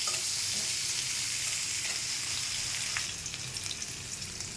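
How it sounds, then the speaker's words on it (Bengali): Potato pieces with turmeric and salt fry in a pan with a continuous hiss, and chopped onion tumbles in partway through, followed by a slightly quieter sizzle and a few stirring scrapes. "পেঁয়াজ কুচিটা দিয়ে দিলাম। আলুর সঙ্গে একটু ভেজে নিতে হবে।"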